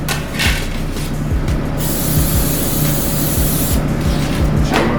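Cooking pan spray hisses from an aerosol can in a steady, loud, close burst that runs almost without a break, with no talk.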